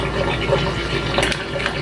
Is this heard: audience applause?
no